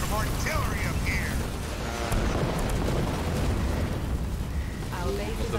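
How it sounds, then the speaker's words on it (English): Artillery shells bursting around a base in a strategy video game, a dense, continuous rumble of booms and blasts at steady loudness with no pause. "Getting hit from artillery up here."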